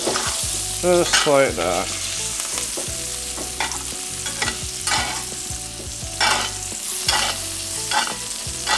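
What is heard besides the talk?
wagyu steak sizzling while being basted in a pan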